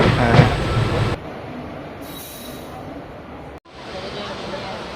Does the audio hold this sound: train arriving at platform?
yes